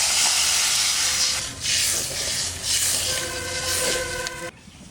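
Fish curry broth with cumin, coriander, chili and ginger boiling hard in a pan after water is added, a loud steady steaming hiss and bubbling that cuts off sharply near the end.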